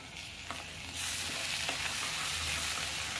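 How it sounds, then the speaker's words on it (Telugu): Ginger garlic paste and coriander powder fry in a mix of butter and oil, a steady close sizzle that grows fuller after the first second, with a few soft spatula scrapes and no talking. "చక్కగా వేగిన తర్వాత చూడండి, చక్కగా వేగనియండి పచ్చివాసన పోయిన దాకా"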